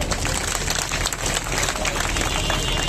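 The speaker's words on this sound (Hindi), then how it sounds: "इसके लिए भी ताली बजाएंगे" Crowd clapping at an outdoor political rally in Najafgarh, a thick, continuous roar of many hands, loud and sustained across the whole stretch.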